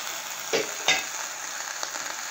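Eggplant and onion fry in a pan with a continuous sizzle, broken by two distinct stirring scrapes early on and a faint third later, close and without speech.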